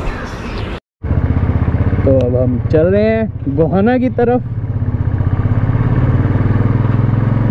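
A motorcycle engine runs steadily at speed on the road toward Gohana, a loud pulsing drone throughout with a brief cut near the start, while a rider talks over it.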